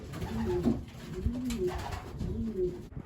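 Young racing pigeons cooing close by, several soft, low repeated coos in a rolling rhythm over a quiet background.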